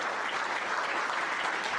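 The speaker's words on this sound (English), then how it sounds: "So give them a round of applause." Sustained applause from a crowd, dense steady clapping throughout with no gaps.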